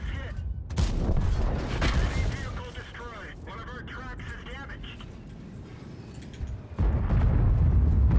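Tank cannon fire and battle noise in World of Tanks, a loud boom followed by rumbling engine and explosion sounds, with someone talking over much of it.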